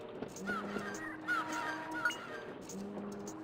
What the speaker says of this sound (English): I hear some seagulls squawking in my ears